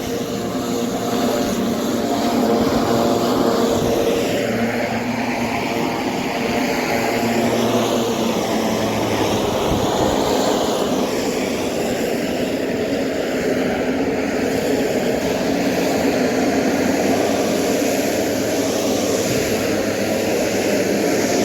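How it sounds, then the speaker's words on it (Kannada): Small aircraft at the tiny Lukla airport in the Everest region, a steady loud engine drone with a low rumble running continuously throughout, no voices present. "ಲೋಕ್ಲಾ ಏರ್ಪೋರ್ಟು ತುಂಬ ಚಿಕ್ಕದು, ಅಷ್ಟೇ ಇರೋದು."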